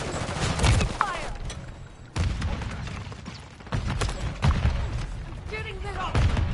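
Gunfire in Call of Duty Modern Warfare III multiplayer: repeated bursts of shots and bangs come in clusters over the whole stretch, loud and close, with game voices calling out between them.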